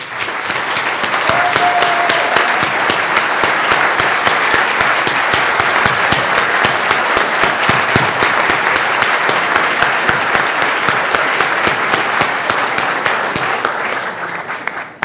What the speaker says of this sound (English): please stand up and let's give them a very loud round of applause.